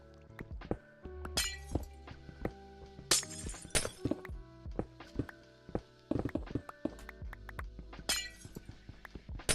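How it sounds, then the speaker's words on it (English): Glass blocks repeatedly shattering in Minecraft, several crisp bright breaks scattered among clunky placing and footstep thuds, close and fairly loud. "just ignore the breaking glass noise"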